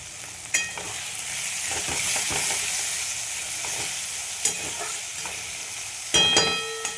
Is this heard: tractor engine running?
no